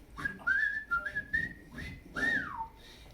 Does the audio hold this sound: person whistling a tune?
yes